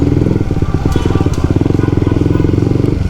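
A Honda CBR 150R sport bike fitted with a modified R9 Zeta-R exhaust idles and revs close by, a loud, rapid popping pulse with a throaty low tone and quick throttle surges.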